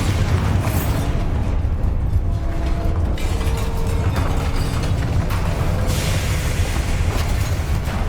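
Bombarda explosion spell cast in the video game Hogwarts Legacy, a loud, sustained blast of rumbling, crackling noise with debris-like bursts that keeps roaring throughout.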